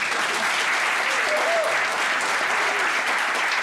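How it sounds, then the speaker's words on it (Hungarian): Theatre audience at a Hungarian solo comedy evening clapping on request, a loud, even wash of applause filling the whole stretch, with a faint voice briefly audible over it. "kérhetnék egy kis tapsot"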